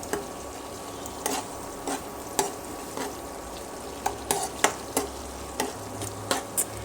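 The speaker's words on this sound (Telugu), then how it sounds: "ఇప్పుడు అనుకున్నా అయ్యో వీడియో పెట్టచ్చు కదా అనేసి మంచిగా ఫ్రై చేసుకోవాలి" Vegetables frying for vegetable upma sizzle steadily in a pan, with sharp utensil scrapes and taps from stirring recurring every second or so, close up, no voices.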